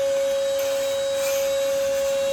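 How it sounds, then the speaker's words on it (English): A cordless ash vacuum powered by a DeWalt 20V Max battery runs steadily as it sucks up ash, a constant motor whine with a strong single tone and broad airy rush, close and loud throughout. "Look at how good it picks this up. Vacuum works really good."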